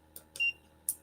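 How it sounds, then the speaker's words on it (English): Heat press used for a patchwork Christmas stocking sounding three short electronic beeps while warming back up, the middle one held slightly longer, clear and close in a quiet room. "It's warming back up on me. That's why it's beeping at me."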